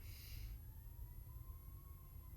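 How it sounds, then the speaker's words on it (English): An emergency siren sounds outside, faint and distant, its thin wavering tone sliding slowly under a steady low hum of background noise. "There's a siren going off right now."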